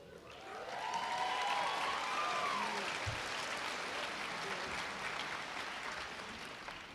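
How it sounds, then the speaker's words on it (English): Students at a Central Methodist University May commencement break into loud, sustained applause and cheering from a large crowd, swelling quickly and holding steady before slowly tapering off. "It never surprises me that the students cheer that line the loudest every year."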